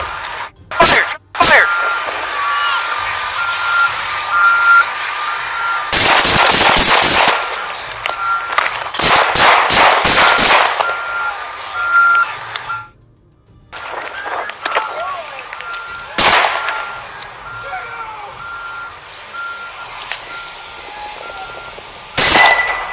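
Gunfire from a police officer's service pistol, sharp loud shots fired in quick clusters with gaps between them, mixed with talking.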